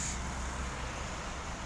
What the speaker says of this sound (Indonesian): Ada truk kanter kondisi turbo interkuler enggak kuat nanjak